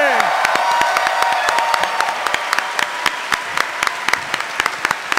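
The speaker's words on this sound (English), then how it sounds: "please give them all a huge round of applause" Audience at the Balboa theatre applauds and cheers performers at a w00tstock show, dense clapping and whoops that thin into sparse individual claps by the end.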